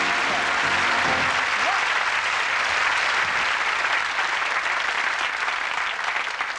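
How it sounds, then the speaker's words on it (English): Big, sustained applause from a studio audience at a magic show, cheering a volunteer; the thick wash of clapping runs evenly throughout, with a brief voice and musical tones faintly underneath early on. "Let's have a big round of applause for a very good volunteer indeed."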